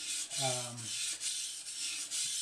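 A Moritaka kitchen knife is stroked across a sharpening stone in steady back-and-forth passes, each rasping scrape close and even, repeating in a quick rhythm.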